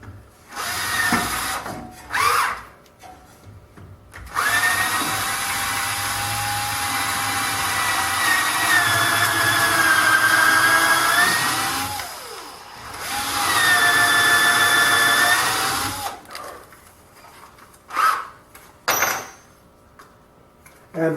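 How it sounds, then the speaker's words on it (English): A power drill drives dowels into the wooden skirt corner of a flip-top tool stand base, two long loud whining runs with a shifting pitch, separated and framed by short bursts and handling noise. "To reinforce the 4th corner of the skirt, I'm going to drill in 3 dowels."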